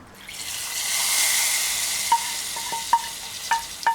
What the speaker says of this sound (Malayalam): കടുക് വറുത്തത് കറിയുടെ മുകളിലേക്ക് ഒഴിച്ചു കൊടുക്കാം